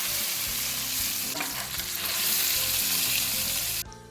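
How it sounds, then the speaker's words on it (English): A leg of lamb sizzles loudly in a hot pan, a steady, close crackling hiss that cuts off abruptly at the end. "Listen to that sizzle."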